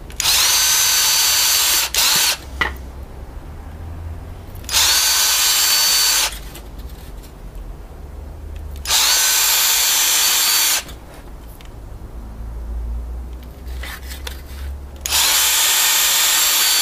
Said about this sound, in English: So let's drill those holes.